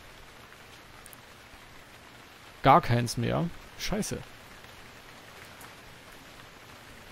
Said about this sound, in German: Die Wettervorhersage auf dieser schlauen Uhr sagt, es regnet.